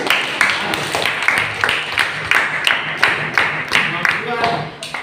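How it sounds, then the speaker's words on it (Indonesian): A classroom audience claps at a lecture on respecting cultural and religious differences, a steady run of sharp hand claps carrying on for several seconds, loud and close, with a voice faintly under it. "Baik, tepuk tangan untuk sekali itu"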